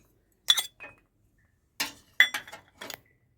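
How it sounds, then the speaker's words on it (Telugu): Sweet corn kernels tumble into a bowl in a few brief, bright clinks and rattles, close and isolated against near silence. "చూడండి, స్వీట్ కార్న్ వేస్తున్నాను"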